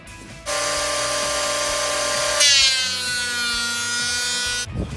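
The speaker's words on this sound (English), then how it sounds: "I'm just gonna run it through the planer and clean off some of these riveted edges here" A thickness planer feeds a white pine 1x8 board through its cutter, a loud steady motor whine with a brief heavier surge midway as the blades bite, running alone for about four seconds before cutting off.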